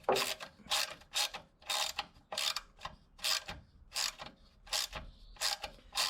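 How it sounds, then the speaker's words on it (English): A broken bolt, with a second bolt welded onto it, is wrenched out of a car, giving about a dozen rhythmic ratcheting clicks in quick bursts, close and clear with no talk. "Got the bolt welded to the broken bolt, and now I think it's coming out."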